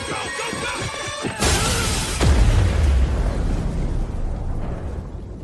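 Grenade blast in an AI-generated war film: a sudden loud broadband boom after a moment of tense scoring, then a long rumbling decay with a falling whoosh and low tail, no speech.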